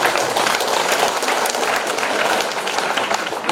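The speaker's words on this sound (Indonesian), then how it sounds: "Tepuk tangan buat yang begitu." An audience bursts into dense, sustained applause, many hands clapping at once in a loud, even wash that holds steady for several seconds.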